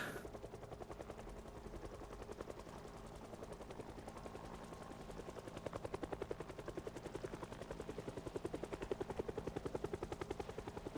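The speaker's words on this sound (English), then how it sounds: "There's a helicopter." A helicopter in the video game Project Zomboid, its rapid rotor thumping droning steadily throughout, a dense rhythmic chop that grows slightly stronger over time, with no voices.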